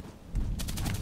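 Sniper rifle fire in a video game, a sharp shot or two followed by a rapid string of crackling reports, fairly loud and close, with no voices.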